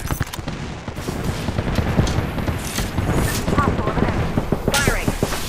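Rapid gunfire crackles continuously in a video game firefight, layered bursts and pops running throughout while players talk over the shooting.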